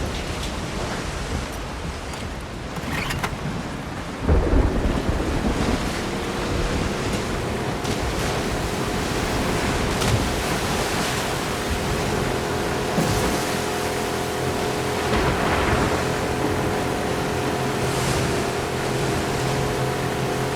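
Ocean water and waves in The Last of Us Part 2 wash in as a steady, broad roar of surf and spray, loud and continuous, with a low engine-like hum underneath and no talk.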